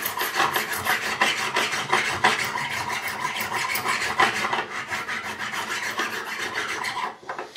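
Sandpaper rasping steadily across the frets of a Tanglewood SJ-5 acoustic guitar during a fret level, a dense, continuous scraping of back-and-forth strokes up close that stops abruptly near the end.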